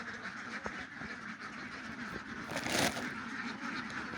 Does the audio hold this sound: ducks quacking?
yes